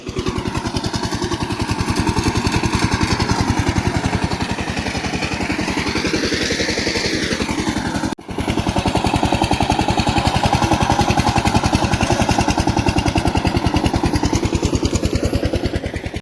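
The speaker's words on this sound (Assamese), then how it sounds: "দেখলে এইখন ট্ৰেক্টৰে হাল মাৰি আছে বৰ্তমান" A small tractor engine chugs steadily with a rapid, rhythmic thumping while plowing a field, close and loud, briefly cutting out for an instant midway before resuming; no talking.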